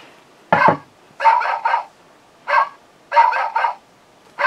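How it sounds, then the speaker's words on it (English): A 2001 Robo-Chi Happy Meal robot toy dog barking in tinny, electronic yaps, grouped in ones, twos and threes with short pauses between, close and fairly loud. "all of a sudden, we hear this barking"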